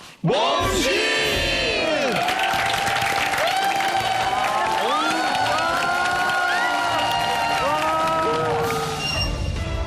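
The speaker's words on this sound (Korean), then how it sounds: "큰 목소리로 큰 박수로 맞아주시기 바랍니다" A television studio audience on a Korean health variety show greets a guest with loud applause and cheering, the clapping mixed with shouts and whoops as upbeat music plays throughout.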